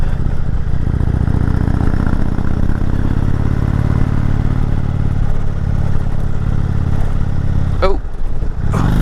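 A motorcycle engine drones steadily and loudly while climbing the road up Mt. Washington, with heavy wind rumble over it and a brief shift in pitch near the end.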